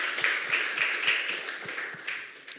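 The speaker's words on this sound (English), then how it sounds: "give them a round of applause for that" An audience applauding at a Starbucks talk-series event, steady dense clapping at moderate loudness that fades slightly toward the end, with no speech over it.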